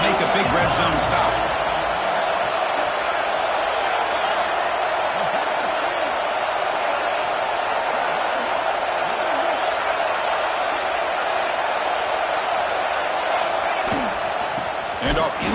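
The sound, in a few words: stadium crowd cheering at Ohio State football game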